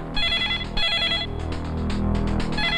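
Telephone ringing nearby, repeated bursts of a bright electronic ring pattern over a low background hum, loud and close with no voices.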